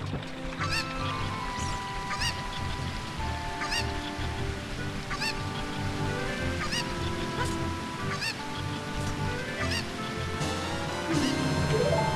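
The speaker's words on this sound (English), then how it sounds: "I lost the chicken!" Repeated honking, clucking bird calls from a chicken in a Zelda Ocarina of Time randomizer game, sounding at a steady rhythm over a dense, continuous game soundtrack.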